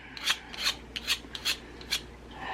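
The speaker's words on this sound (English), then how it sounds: "just gotta get in there and scrape" A tool scrapes along a seam on an air dry putty mannequin, about half a dozen short rasping strokes in an uneven rhythm, close and fairly soft, with no talking.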